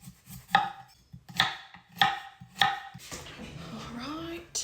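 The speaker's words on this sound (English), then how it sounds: "And then I slice them and add the florets to the pan with the broccoli" Knife slicing through broccoli stems on a cutting board during home cooking, four sharp evenly spaced chops close by, then a softer rustle and sizzle as florets go into the pan.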